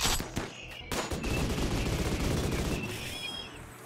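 Rapid bursts of gunfire ring out in a RimWorld colony battle, a dense crackling volley with sharp individual shots layered over a steady combat din, loud and continuous throughout.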